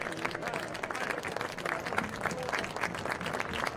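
A high school football crowd at an Oregon High versus Reedsburg game claps steadily for veterans bringing the colors onto the field, a dense, continuous wash of applause heard from the stands.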